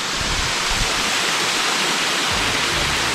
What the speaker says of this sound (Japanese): すぐ目の前に見えるカニウの滝、